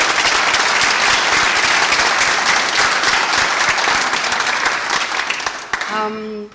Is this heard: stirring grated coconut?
no